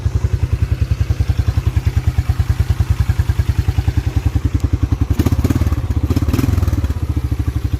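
A 1987 Yamaha Moto 4 YFM-350ER ATV engine idling steadily with a rapid, even thumping putter, close and loud, with a brief rougher burst of clatter midway before settling back.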